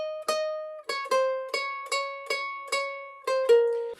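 A steady run of about nine single plucked ukulele notes plays a short section of God Save Our Queen, bright and close, each note ringing briefly before the next, ending on a longer held tone.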